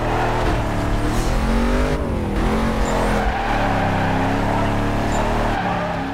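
Loud race car engine in Need for Speed Carbon easing off the throttle, the pitch sliding down and back up with tyre noise, steady and close throughout.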